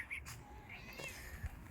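A domestic cat meows a few short times, close by and fairly soft, over a quiet indoor background with faint low rumble and no speech.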